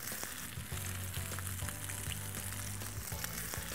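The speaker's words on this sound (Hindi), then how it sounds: "सिजलिंग साउंड जो आपको बताता है कि भाई कुकिंग बहुत अच्छे से हो रही है।" Banana bread French toast dipped in egg sizzling in a hot pan, a dense, continuous close crackle with faint clicks throughout; no one talks.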